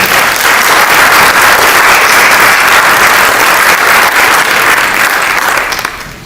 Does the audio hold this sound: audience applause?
yes